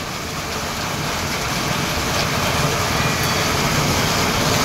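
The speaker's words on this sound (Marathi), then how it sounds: "जबरदस्त मस्त पाऊस आहे" Heavy monsoon rain pours steadily in a hilly village, a thick unbroken hiss of water striking roofs and ground, loud and close for the whole stretch, with no voices.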